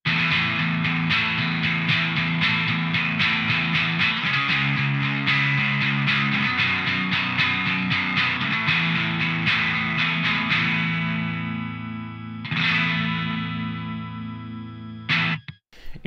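Electric guitar on its bridge pickup played through a Death By Audio Germanium Filter pedal, giving a loud, clangy, distorted tone with strummed chords ringing out and decaying before a final short stab.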